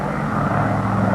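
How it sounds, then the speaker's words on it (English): Douglas DC-6 four-engine propeller airliner in flight, a steady loud droning engine roar with low humming tones, continuous and unbroken throughout. "the 4 big engines will cruise the DC-6 at better than 300 miles per hour"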